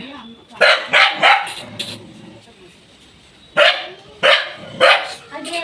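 Several sharp dog barks in two bursts, loud and close, with a quieter stretch between them and faint background murmur.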